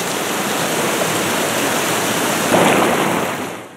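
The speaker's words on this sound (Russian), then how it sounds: "Этот постоянный рев воды," A loud, steady roar of rushing river water in a gorge in the Verkhoyansk Range, broadband and continuous, swelling briefly before easing slightly at the end.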